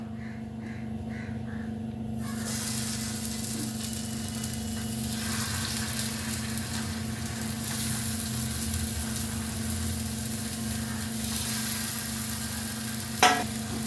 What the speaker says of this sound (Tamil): கல்லை வந்து சிம்மில் வச்சு 2 பக்கமும் நல்லா கோல்டன் ப்ரௌன் அளவுக்கு பொன்னிறமாக எடுக்கலாம்